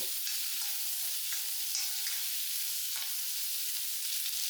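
Chopped potatoes fry and get stirred in a pan for a vegetable curry, a steady close sizzle with a few soft scraping stirs and no talking.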